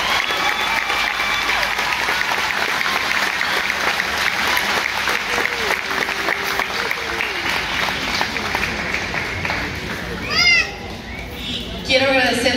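Audience applause at a children's choir concert of fine arts in Tijuana, steady dense clapping with children's voices and crowd chatter mixed in, a brief whistle-like squeal near the end.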